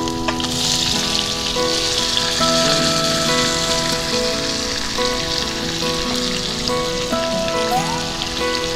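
Potato pieces dropped into hot oil already spiced with small cardamom and white cumin sizzle and crackle, a loud, continuous rain-like hiss with a faint tonal hum beneath and no talk.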